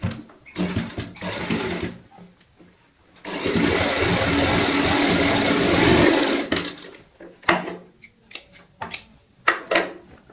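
A sewing machine runs in one steady burst of about three seconds, stitching a fine edge seam to close the opening of a handmade fabric handbag, framed by softer handling clicks and rustles before and after.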